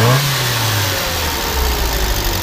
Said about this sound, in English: rev it up just a little bit here